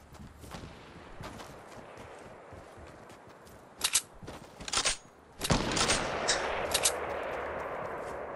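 Sharp sniper shots crack out in Fortnite, several isolated reports spaced over a few seconds, with footsteps and rustling movement between them and denser bursts of fire toward the end.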